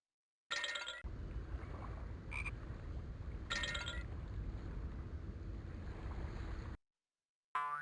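Frogs croaking beside a farm pond in the Buzzy the Knowledge Bug game, a steady close chorus of low rattling croaks running continuously with a few bright chime-like blips on top.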